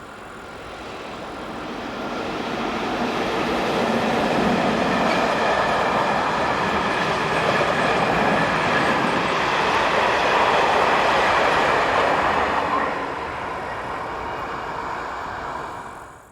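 Austrian Class 1063 electric locomotive hauling a local trip freight train from Knittelfeld toward Bruck, a steady broad rumble and wheel noise that swells as it nears, holds loud for most of the pass, then eases off at the end.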